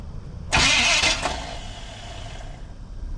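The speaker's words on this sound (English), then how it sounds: "Wait till that starter stops spinning and try it again." A 1980 Chevy 4x4 pickup with a Quadrajet carburetor cranks on its starter: a sudden loud, roaring burst lasting under a second, then a fading rumble that settles into low idle-like noise.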